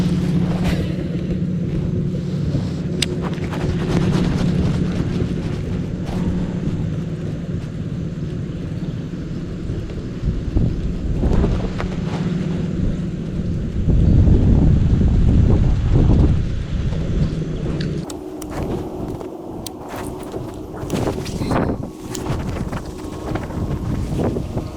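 Wind buffets the microphone on a kayak during a fishing trip, a continuous roaring rush with a deep low hum that swells into heavier gusts midway, loud and close.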